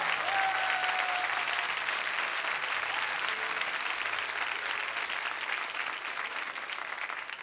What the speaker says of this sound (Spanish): ¿El aplauso es solo de los santiaguinos o de todos?